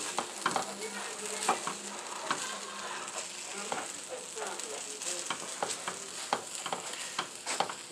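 Fried rice with bacon and chives is stirred in a hot pan, a continuous sizzle broken by repeated scraping clacks of the utensil, close and fairly loud, with no voices.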